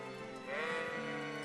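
A single drawn-out, wavering sheep bleat in the video game Kingdom Come: Deliverance, over a steady background drone, slightly rough and eerie in tone.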